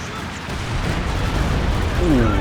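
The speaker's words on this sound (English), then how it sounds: "Stuka coming in." A Stuka dive bomber attack in Company of Heroes 2 produces a heavy, rumbling wash of explosions that builds and stays loud throughout, with a faint whistling tone near the end.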